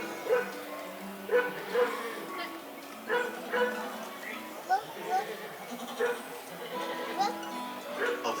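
Prairie dogs bark in a sharp, yipping series, roughly one call per second, with the repeated calls standing out over a busy, murmuring background.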